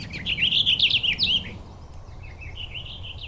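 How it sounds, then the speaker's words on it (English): A bird sings a quick, bubbly warbling phrase up close, followed by a softer, fainter trailing warble. "it's a bubbly song. It's very warbly. So it's a short sound."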